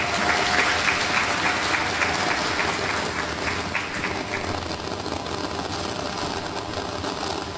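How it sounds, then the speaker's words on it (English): Audience applause at an award ceremony in Mayaro, sustained even clapping from a hall full of people, fairly loud and continuous throughout, fading slightly toward the end. "everyone else in the audience to give Eckersville a round of applause."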